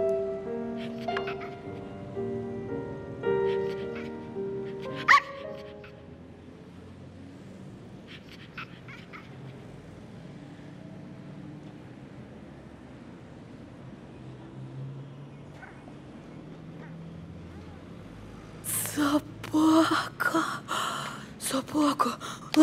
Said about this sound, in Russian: Собака, моя собака.